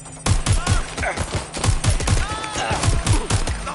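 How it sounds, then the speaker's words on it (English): Heavy gunfire in the video game Watch Dogs Legion on PS5, with rapid bursts of shots crackling close and loud throughout, layered with busy combat noise. "Taking fire!"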